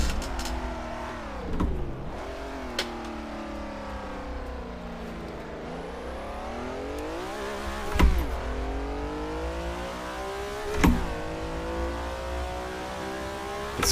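A Ferrari 330 P4 engine in the Assetto Corsa racing game screams at high speed, its pitch climbing and dropping through gear changes, with sharp shift blips around eight and eleven seconds.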